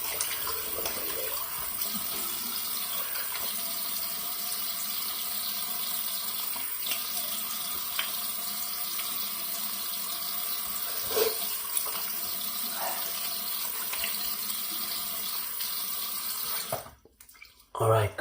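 Cold water runs steadily from a bathroom tap into a sink during a shave, a continuous close splashing hiss with occasional small clinks, ending abruptly as the flow is shut off.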